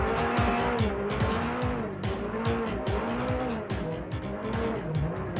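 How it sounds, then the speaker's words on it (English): A race car on the gravel road up Pikes Peak, its engine note rising and dipping with rapid throttle adjustments and tire scrabble underneath, continuous and close throughout. "You can hear the delicate counter movements of the throttle"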